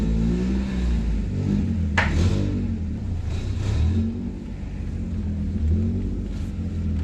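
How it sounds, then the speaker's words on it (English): A Honda Prelude project car with no power steering idles and revs while pulling into a driveway to warm up, a close, rumbling engine note with a few brief rising revs and no talk. "I'm gonna just go ahead and pull it in my driveway and let it finish warming up"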